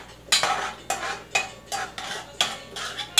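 Chopped half onion added to a pot with oil and stirred with a utensil, a close run of about eight rhythmic scraping clinks against the pot, no voices.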